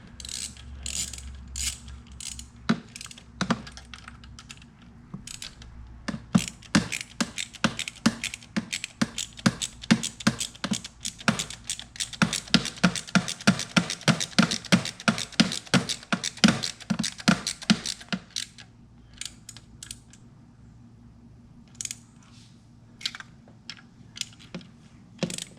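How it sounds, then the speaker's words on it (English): A ratchet wrench tightens the injector bolts on a BMW 335d diesel engine, giving long runs of rapid, close clicking that speed up into dense bursts and then slow to scattered clicks, with no talk. "So we're going to tighten those guys down"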